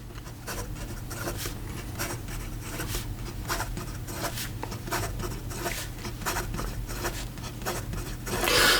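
A Karas Pen Co Decograph fountain pen scratches quickly across paper in fast writing, giving rapid, rhythmic rustling strokes that stay close and soft throughout, with a brief louder rub at the end.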